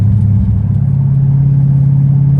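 A straight-piped Dodge Hellcat Redeye rumbles along the highway with a loud, steady, deep exhaust drone that holds constant throughout, heard from close range inside the car with no talking.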